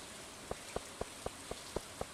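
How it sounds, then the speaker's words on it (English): Rain in the video game Stardew Valley: a steady quiet patter with evenly spaced drop ticks roughly every quarter second, soft and continuous with no voices. "Are you at your house since it's raining?"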